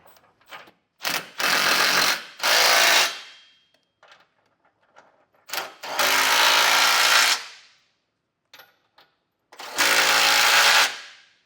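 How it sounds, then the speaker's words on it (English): A 22mm socket on a ratchet or impact tool snugging trailer hitch hardware on a 2024 Honda Passport: three loud, buzzing bursts of a second or two each, separated by quiet pauses and light metallic clicks. "now we can come in with a 22mm socket and snug all the hardware down"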